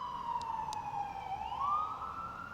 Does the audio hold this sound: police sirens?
yes